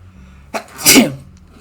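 A single loud, close sneeze, a short sharp intake followed by a forceful burst, with quiet around it.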